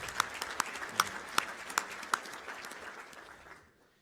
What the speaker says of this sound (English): please, one more time, applause for him.